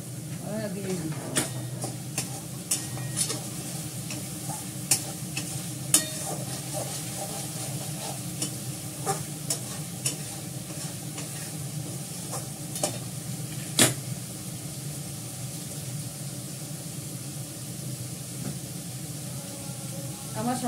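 Fish oil is frying in a kadai with a low, steady sizzle and hiss, broken by occasional sharp clicks and pops of a utensil, under a constant background hum.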